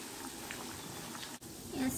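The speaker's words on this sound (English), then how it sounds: "the secret really to frying tofu is the extremely hot oil" Tofu fries in extremely hot oil with a steady, crackling sizzle. A brief dip interrupts it midway, and the sizzle swells again near the end.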